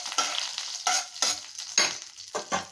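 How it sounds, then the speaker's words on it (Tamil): Cumin seeds, dried red chillies and curry leaves sauté in a pan for coconut rice, with steady hissing sizzle broken by several rhythmic scraping strokes of a spoon stirring, close and alone with no talk. "இதை நல்லா வதக்கி விடலாங்க."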